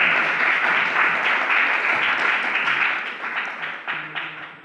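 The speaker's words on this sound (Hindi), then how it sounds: "आपसे गुजारिश करता हूं कि जोर से ताली बजाकर इनका स्वागत करें" Audience applause welcoming a guest at an awards event at the Constitution Club in New Delhi: sustained, dense clapping from a crowd that holds steady and then begins to thin and fade in the final second.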